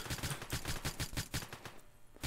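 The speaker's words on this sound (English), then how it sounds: "They're trying to shoot you through the walls." Rapid gunfire in a shooter game, a fast run of sharp, evenly spaced shots fired through walls, loud and close, stopping briefly and then a single final shot.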